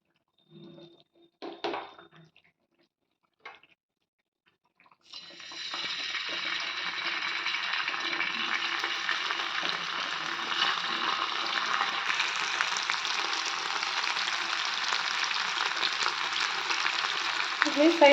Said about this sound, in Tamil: இப்போ நம்ம மீனை பொரிச்சு எடுத்துக்கலாம்.